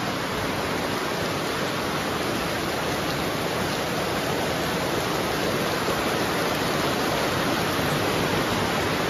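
Heavy rain pours down on the day before a household puja, a dense, steady hiss that holds at the same loud level from start to finish with no voices.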